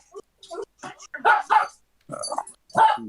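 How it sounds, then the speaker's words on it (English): A dog barks in a handful of short, uneven bursts, some louder and closer than others, with quiet gaps between them. "dog barking"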